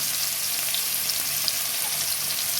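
Chopped onions frying in hot oil give a loud, steady, dense sizzle that fills the clip evenly from start to finish, with no talking over it.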